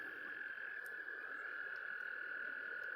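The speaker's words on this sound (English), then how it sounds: "Take a look at all the frogs." Frogs croak beside a river outdoors in a dense, continuous chorus of overlapping calls. The croaking stays loud and steady throughout, with occasional faint chirps and no voices.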